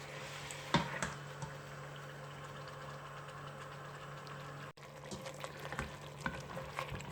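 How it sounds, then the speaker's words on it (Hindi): Chicken pieces frying in a pan for shahi korma, a steady low sizzle with occasional stirring clinks and scrapes, close up and alone without talk. "अब चिकन को 1-2 मिनट फ्राई करूँगी इसमें, इसका जब तक ये कलर चेंज हो जाए।"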